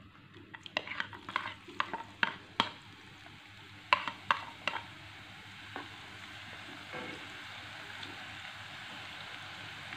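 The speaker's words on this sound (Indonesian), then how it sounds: "kita goreng bawang putihnya tadi yang sudah diiris-iris ya" Sliced garlic sizzles in a hot pan, frying until browned, with a series of sharp utensil clicks from stirring early on, then a steady soft frying hiss.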